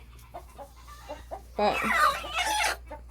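Broody Cochin and Silkie hens cluck in short, close bursts, followed by a louder, drawn-out squawking call; a voice speaks briefly at the start.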